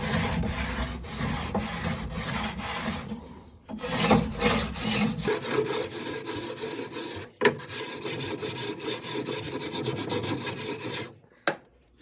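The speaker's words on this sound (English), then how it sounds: "I'm going to go ahead and sand it a little bit with the block sander just to smooth off the sharp edges" A hand block sander rubbing along a wooden dresser rail to smooth sharp edges, giving steady rasping back-and-forth strokes close by, with brief pauses and a couple of sharp knocks near the end.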